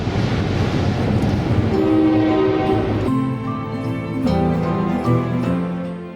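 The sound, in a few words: long train passing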